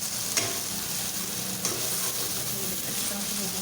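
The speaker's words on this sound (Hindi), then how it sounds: "इसमें हम बंद गोभी डाल देंगे, अच्छी तरह से हम भून देंगे।" Peas and chopped cabbage fry in a pan with a continuous close sizzle, punctuated by two brief scraping stirs of a spatula.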